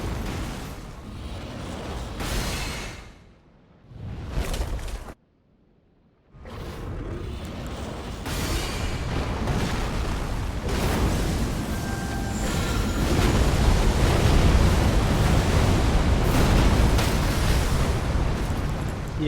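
Heavy rumbling blasts from a bombardment in the Elden Ring video game with the Convergence mod, a dense roaring barrage that cuts to near silence around five seconds, then returns as a sustained, loud, booming wall of noise.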